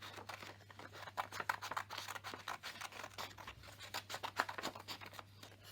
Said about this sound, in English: take your scissors, and we are going to cut strips in the paper